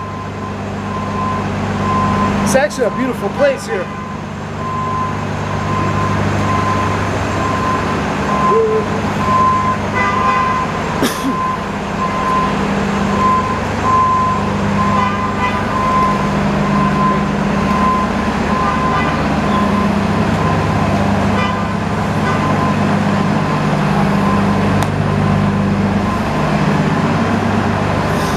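Buses leave the Rockford Mass Transit District depot with long stretches of heavy engine drone and hum, a few sharp clanks early on and a brief horn toot, while someone speaks once.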